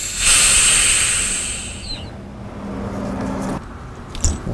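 Pressure in a G37 Sport / 370Z car brake fluid system is released, producing a loud, sharp hiss that fades over about two seconds, followed by faint clatter and handling sounds in a garage.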